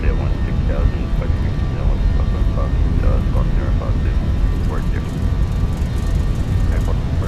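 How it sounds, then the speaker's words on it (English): Airbus A320 engines at takeoff power in a flight simulator, a loud, constant broadband roar with a faint high whine, unbroken throughout and with no talk over it. "Listen to those engines."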